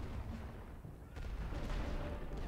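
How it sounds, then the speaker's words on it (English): Artillery shells fire and land in the World War I strategy game The Great War: Western Front, a continuous rumble of distant booms and blasts rolling under one another, dense and steady rather than distinct single shots. "Artillery shells can cause friendly fire, so be cautious when firing near your own troops."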